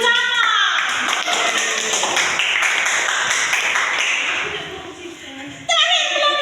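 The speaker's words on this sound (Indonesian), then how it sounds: "Tepuk tangan untuk Ibu Camat." A classroom crowd claps for the subdistrict head, a dense burst of many hands that holds steady, then thins and fades before a voice speaks at the end.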